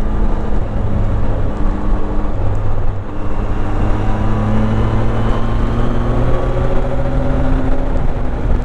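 A Zontes 703F motorcycle is ridden at speed, its engine holding a steady drone beneath heavy wind rush that stays loud and constant throughout, with a brief dip partway through.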